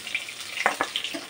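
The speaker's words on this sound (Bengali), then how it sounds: "দেখো আমার মাছগুলো ভাজা হয়ে গেছে, এবার আমি মাছগুলো একে একে তুলে নিচ্ছি" Fish frying in hot oil, a steady soft hiss of sizzling with a couple of brief sharper crackles, faint and close.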